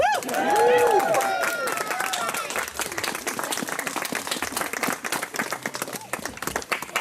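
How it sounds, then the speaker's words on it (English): Wedding guests cheering and clapping for newlyweds Scott and Kristin after the kiss, loud whoops and shouts at the start followed by steady, lively applause that continues to the end. "At this point, you should all be cheering."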